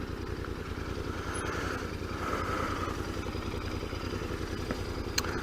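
A 2019 Royal Enfield Interceptor motorcycle engine thrums steadily while riding, a low rhythmic pulse with moderate loudness and road noise, ending with a brief clack.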